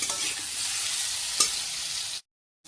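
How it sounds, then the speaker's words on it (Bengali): Katla fish pieces sautéing in a hot pan for a Bengali curry, giving a steady, close sizzle and fry hiss with a brief stir or clink near the middle before the sound cuts off. "আর এই যে কাতল মাছের এখন কষানো হচ্ছে"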